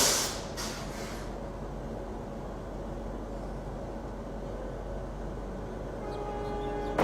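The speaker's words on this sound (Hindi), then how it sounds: "कोलकाता की लोकल ट्रेन्स" Steady low rumble of Kolkata local trains at Howrah station, with a continuous droning hum, brief clanks at the start and a tonal horn-like sound near the end.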